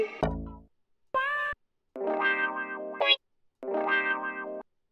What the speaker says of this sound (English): We're gonna get an assortment of wah-wah sounds.